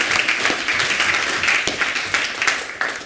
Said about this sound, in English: Can I have a round of applause for the development team,